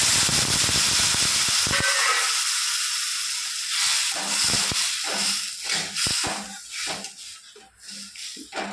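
Coconut water hits a pan of cooking semolina, producing a loud burst of hissing steam and sizzle that fades after a couple of seconds into softer bubbling and scattered clicks.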